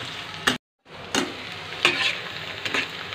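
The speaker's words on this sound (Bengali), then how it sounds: "এবার পেঁয়াজগুলো দিয়ে আমি ভেজে দেব" Onions sizzling in a little oil in a pan for doi mutton, with several clacking stirs of a spatula over a steady hiss, interrupted by a brief silent gap.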